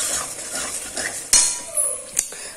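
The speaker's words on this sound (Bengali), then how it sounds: "আর এখানে আলুর দমটাকে কষাতে দিয়েছি, আলুগুলো ভেজে কষা কষা আলুর দমটা হবে।" Potatoes for aloo dum sautéed in a pan, soft sizzling broken by a few sharp metallic clinks and scrapes of a spatula, close and without talk.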